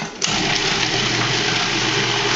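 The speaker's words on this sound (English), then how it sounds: "I'm just going to blend that right now because I want to soften the cream cheese" A blender whirs up abruptly and runs at a steady, loud, even pitch, churning light Philly cream cheese to soften it.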